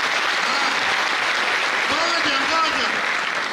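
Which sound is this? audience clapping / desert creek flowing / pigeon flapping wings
audience clapping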